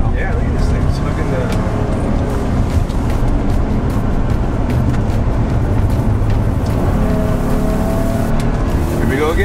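Steady engine and road drone from inside a police SUV being test driven, a continuous low rumble throughout with voices talking over it.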